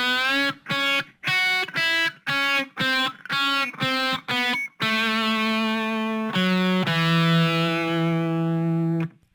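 An electric guitar plays a solo lick from the chorus of a song: a quick run of distinct staccato picked notes followed by longer sustained notes ringing out, with slight distortion.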